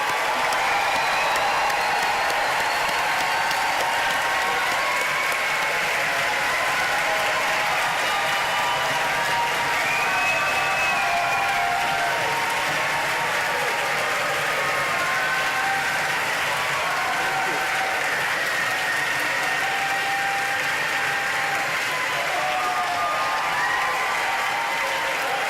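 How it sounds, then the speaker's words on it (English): Sustained applause from a large audience at an engineering graduation ceremony, steady dense clapping with faint cheers mixed in, lasting the whole stretch without a break. "let's give a big round of applause again"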